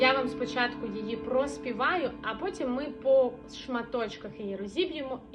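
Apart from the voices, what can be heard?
No everyday noises stand out.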